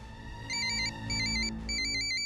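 A telephone rings with a bright electronic trill in three repeated bursts separated by short gaps, over a low background hum, fairly quiet and with no talking.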